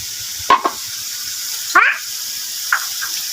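Bay leaves and spices sizzle in a pan while biryani cooks, with a steady soft frying hiss broken by a few brief sharp clinks or scrapes.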